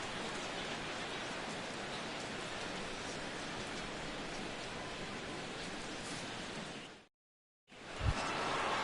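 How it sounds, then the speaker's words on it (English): Rain falls steadily over a baseball stadium in MLB The Show 16, a dense, even hiss of downpour that fills the scene without pause before briefly cutting out and returning. "Colby Rasmus steps in here to lead off the 6th as the rain continues to fall here."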